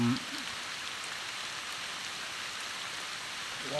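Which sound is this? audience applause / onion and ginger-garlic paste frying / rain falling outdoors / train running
rain falling outdoors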